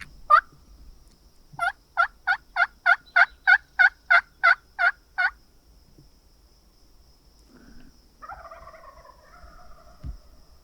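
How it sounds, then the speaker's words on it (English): Wild turkeys gobbling on a small field on Montana public land: a rapid burst of about a dozen evenly spaced pulsed gobble notes, moderately distant, followed by fainter scattered calls and quiet outdoor ambience, with no talking. "now I've got two birds gobbling in the same spot on this little field"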